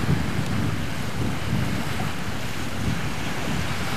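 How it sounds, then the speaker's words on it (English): Ocean surf at high tide washes steadily against rocks along the shore at Tanjung Pandan, Belitung, a continuous broad roar of breaking waves mixed with wind buffeting the microphone. "High tide right now."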